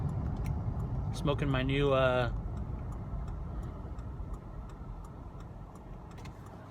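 Steady low road rumble from inside a car driving home, continuous and fairly loud, with someone talking briefly over it early on.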